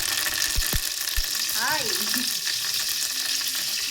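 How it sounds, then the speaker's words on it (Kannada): Mustard seeds, cumin and curry leaves hit hot oil with a loud, continuous sizzle, a few sharp clinks of a spoon on the pan near the start, then a steady crackling hiss. "ಇವಾಗ ಇದಕ್ಕೆ 1 ಸ್ಪೂನ್ ಸಾಸಿವೆ ಹಾಕ್ತಿದ್ದೀನಿ, 1 ಸ್ಪೂನ್ ಜೀರಿಗೆ, ಕರಿಬೇವು ಸೊಪ್ಪು"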